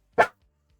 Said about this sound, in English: If you bark one more time, I'm going to send you inside.